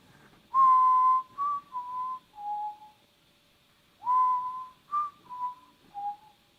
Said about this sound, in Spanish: Y de repente alguien empezó a silbar.